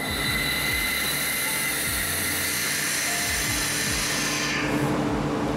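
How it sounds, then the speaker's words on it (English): An air compressor runs steadily and loudly, a dense continuous mechanical roar with fast rhythmic pulsing underneath and no talking. "I don't think I turned on the air compressor."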